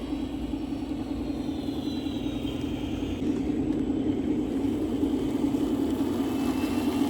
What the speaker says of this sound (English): You guys can see we got wheel slip, but that's normal.